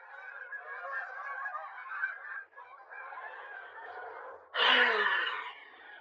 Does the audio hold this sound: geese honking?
yes